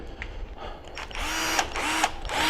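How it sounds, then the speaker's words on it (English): A small cordless impact wrench drives bolts on a Raceline beadlock wheel ring, firing in short rattling bursts with brief gaps between them, close and fairly loud, no voices. "let's get this little impact over here. I use an impact."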